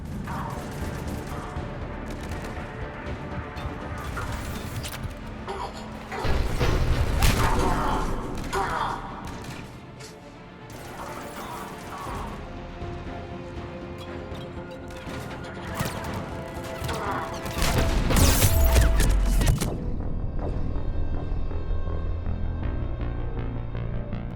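Heavy cannon fire from a Mass Effect 3 battle against a ship threatening the Krogan resistance: repeated booming blasts and crashing impacts over dense, continuous combat noise, loud and close, with two strong surges.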